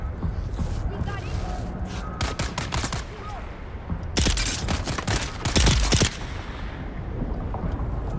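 Gunfire in Dune Awakening rattles in rapid bursts of sharp cracks, with dense clusters in the middle and again toward the end, over a busy game soundscape.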